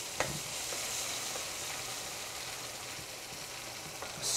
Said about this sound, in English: Now we add the juice of 1/2 lemon.